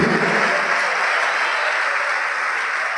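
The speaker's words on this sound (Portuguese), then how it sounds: "vamos aplaudir mais ao nome do Senhor" A church congregation applauds together, a dense, steady wash of clapping that holds at an even level throughout with no voices standing out.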